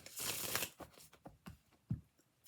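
Tarot cards are riffled in a quick burst, then several softer slaps and taps follow as the deck is squared and handled, close and quiet.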